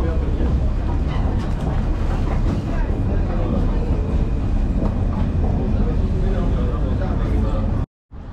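Inside a crowded train carriage in Paris, a loud continuous low rumble of rolling stock with rattling runs under nearby chatter, ending in a brief dropout before the noise resumes.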